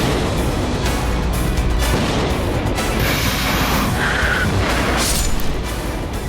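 Rumbling blasts from an Israeli strike on the city of Tabriz, Iran, a dense continuous roar of distant explosions and booms sustained throughout, loud and without voices.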